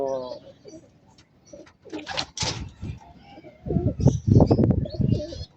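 Three pigeons cooing at a home loft, soft repeated coos and a few chirps up close, with a voice talking over them and louder rustling near the end.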